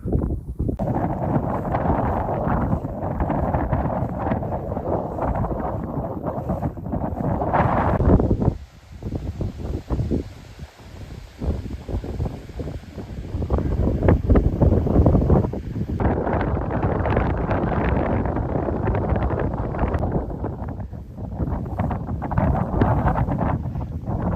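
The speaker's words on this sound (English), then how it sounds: "Very windy, but tent feels stable enough. It's flapping around." Strong gusts roar and buffet continuously, with a pitched Fjallraven Abisko Lite 1 fabric tent flapping and rattling nearby at Devil's Punchbowl, Oxfordshire; a short lull midway before the wind surges again.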